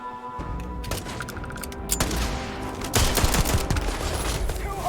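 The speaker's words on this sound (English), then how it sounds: "we're still using the M1911 pistol" M1911 pistol fire echoes through a Starfield space fight in dense, overlapping bursts of sharp cracks and booms, loud and continuous over a noisy background.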